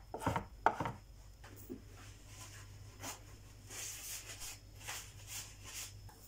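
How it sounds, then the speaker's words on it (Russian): Dill and parsley are chopped finely with a knife on a board, giving a few quick sharp cuts at first and then softer scattered taps over a low background hum. "У меня укроп и петрушку нарежу мелко."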